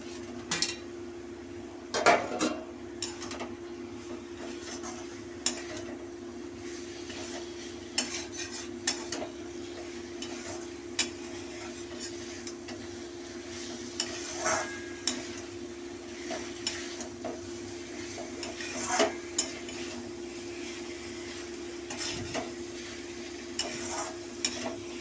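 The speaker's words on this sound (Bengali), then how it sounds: "পোস্তটা ভাজা ভাজা হয়ে এসছে, তেল ছেড়ে গেছে। এবার আমি ভাজা পটলটা আমি দিয়ে দেবো।" Poppy seed paste fries in oil in a pan with pointed gourd, a metal spatula scraping and clinking against the pan at irregular intervals over a low steady sizzle, with no one speaking.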